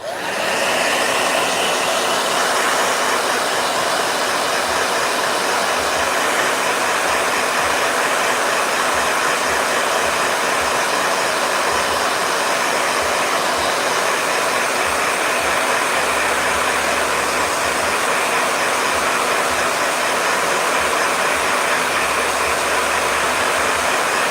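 A hair dryer blows steadily with a constant broadband whoosh and a low motor hum, running continuously and close by.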